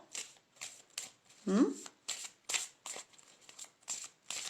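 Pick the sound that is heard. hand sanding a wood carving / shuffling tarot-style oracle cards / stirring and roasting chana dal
shuffling tarot-style oracle cards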